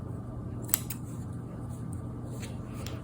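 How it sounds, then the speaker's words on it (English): Scissors snip through fabric quilt binding on a simple baby quilt, one sharp close cut followed by a few fainter snips over a steady low room hum, with no talking. "I'm going to check it before I cut it"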